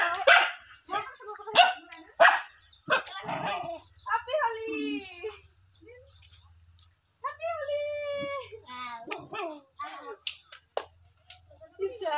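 A dog barks and whimpers in short bursts, its cries mixed in among people talking nearby, with quieter pauses between the yelps.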